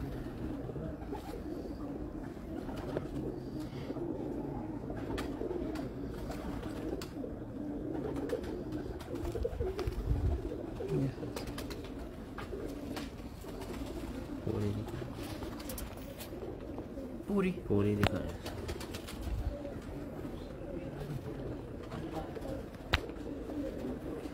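Pigeons coo steadily on a rooftop in Hafizabad, soft repeated low calls running throughout with occasional clicks and faint background voices.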